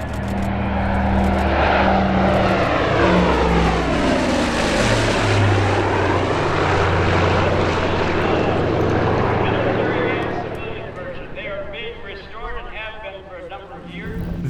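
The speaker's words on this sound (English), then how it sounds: "North America now has an airworthy constellation, C-121A Super Constellation Bataan." A C-121A Super Constellation propeller airliner flies past at an airshow, its loud multi-engine drone sweeping up and down in pitch as it passes, then fading as someone narrates over it.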